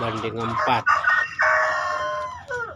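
A Bangkok-line rooster crows loudly and close, a long drawn-out call, with young hens clucking around it.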